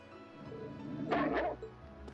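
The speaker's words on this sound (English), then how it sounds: "Bad doggy." A dog in the video game Trails of Cold Steel gives a short burst of barks and yips over a steady game soundtrack, fairly close and moderately loud.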